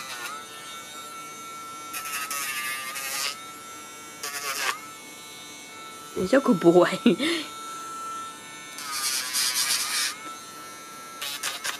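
A Dremel rotary tool whines in short bursts as it grinds a Cavalier dog's black nails, close and steady, with a brief handling rustle midway and a person speaking softly in between.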